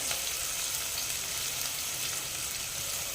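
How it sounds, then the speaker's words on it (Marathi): Finely chopped medium onion sizzling in a pan for Bhogi vegetable, a steady close broadband frying hiss with faint crackles throughout, no talking. "तो घालायचा कांदा छान लालसर रोजपर्यंत आपल्याला परतून घ्यायचा"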